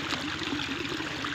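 Irrigation water flowing down through a monsoon rice paddy field in the Konkan makes a soft, steady trickling rush, faint and continuous.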